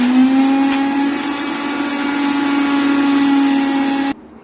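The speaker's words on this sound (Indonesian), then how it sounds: "Terus kita tambahkan sedikit air, kita blender lagi ya teman-teman" A kitchen blender grinds chana dal with tamarind, ginger, chili and salt into an Indian-style coconut chutney, a loud steady whirring motor hum that runs unbroken for about four seconds before cutting off abruptly.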